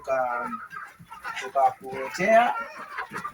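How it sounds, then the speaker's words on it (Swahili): Malawi-breed chickens cluck and call close by in short, irregular bursts, moderately loud, at a farmers' and livestock-keepers' centre. "Kama unahitaji kuku kama hawa wa Malawi"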